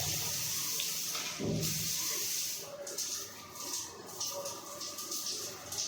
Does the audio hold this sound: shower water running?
yes